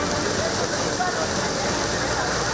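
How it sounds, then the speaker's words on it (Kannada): Floodwater is pumped out of an inundated Bengaluru apartment building with a generator-driven pump after heavy rain, producing a loud, steady rushing roar without pause. "ಜನರೇಟರ್ ಮೂಲಕ ನೀರು ಹೊರತೆಗೆಯುವ ಪ್ರಯತ್ನ"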